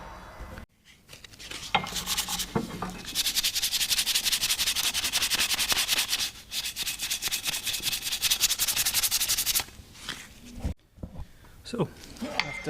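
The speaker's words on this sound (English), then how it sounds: "So after a couple of minutes sanding with 240 grit, you can already see a difference." 240-grit sandpaper rubs continuously over an oxidized Toyota Corolla Verso wiper arm in long, steady, close-up scraping strokes, broken by brief pauses.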